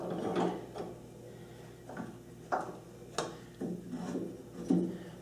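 A small jack screw being turned and a bandsaw vise jaw clamped onto a short metal workpiece in a workshop, heard as scattered metallic clicks and ratcheting knocks, close and moderately loud, with no voices.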